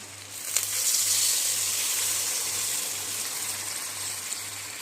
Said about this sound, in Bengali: এখন আমি এটাতে জল দিয়ে দিচ্ছি